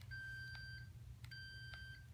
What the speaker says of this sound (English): I think this is just the beeping sound that it makes